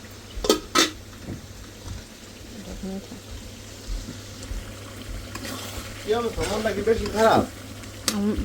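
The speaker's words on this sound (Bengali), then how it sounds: "একদম টাটকা টাটকা ভাইজা এই ডেক্সির মধ্যে ভাজলাম" Food frying in a deksi pot at home, giving a steady close sizzle throughout, with a few clinks and voices talking over it near the end.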